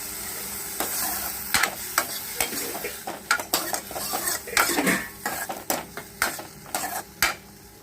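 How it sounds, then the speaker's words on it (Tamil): Tomatoes sizzle softly in ghee in a pan while a utensil stirs and scrapes repeatedly against the metal, producing irregular clinks and taps. "தக்காளி நல்லா வதங்கட்டும்."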